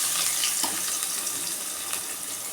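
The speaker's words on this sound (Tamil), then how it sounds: "கடுகு பொரிஞ்சிட்டு" Mustard seeds splutter and crackle in hot oil, a dense, steady sizzle with scattered sharp pops, close and fairly loud, with no voices.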